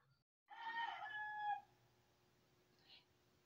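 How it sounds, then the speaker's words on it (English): A rooster crows once somewhere in a residential neighborhood, a single drawn-out call of about a second, heard at moderate distance over quiet background hiss, followed by a faint short animal sound. "if you are hearing the roosters in our neighborhood, let's just try to ignore them"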